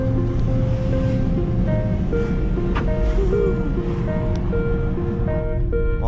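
Ocean waves at the seaside in Daet, a continuous wash of surf mixed with wind and a droning engine tone throughout, with no speech.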